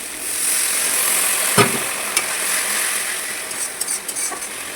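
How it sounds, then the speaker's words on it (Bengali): A splash of water poured onto spices frying in a pan, bursting into a sharp sizzle that settles into quieter crackling, followed by a few light clinks. "একটু সামান্য একটু জল দেবো।"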